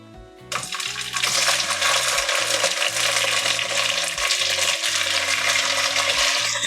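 Marinated pork pieces hit a hot pan and break into loud, steady sizzling that starts suddenly and holds on, close and dense, for a Goan pork vindaloo.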